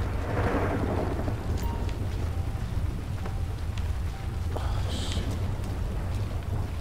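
Storm in a video game: a constant low thunder rumble under the wash of rain, with a few brief higher clicks and chirps over it, and no one talking.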